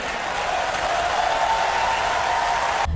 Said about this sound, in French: Une intervention applaudie frénétiquement par l'assistance